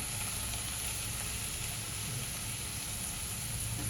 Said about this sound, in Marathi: भाजी बघा आपली शिजत आहे.